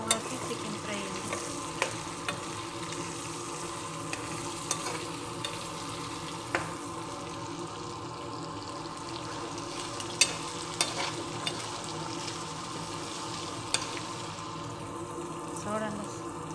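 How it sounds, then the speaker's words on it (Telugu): Chicken fry sizzles in a pan as curry leaves and chopped onion are stirred in, with a steady crackling fry and regular spoon knocks against the pan. "లాస్ట్ని కొంచెం కరివేపాకు ఉల్లిపాయ ముక్కలు వేస్తున్నాను."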